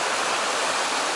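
A rushing mountain river in the mountains of Chechnya, where two rivers join into a bigger flow, giving a steady, loud, close wash of turbulent water with no other sounds.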